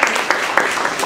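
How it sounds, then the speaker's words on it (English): Brief burst of audience applause at a raw food cooking demo for a nonprofit in Oakland, a dense patter of clapping hands at steady volume with voices mixed in. "Please give a clap hands for"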